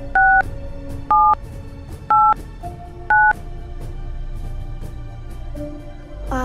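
Telephone keypad tones while calling a number: four distinct two-tone DTMF beeps at a steady rhythm over a faint hum, followed by quieter line noise.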